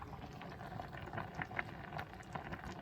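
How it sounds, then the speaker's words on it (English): Pot of water for bow tie pasta rolling at a boil on a stovetop, a steady close bubbling hiss with small pops throughout, no voices. "It's already coming to a boil, you guys."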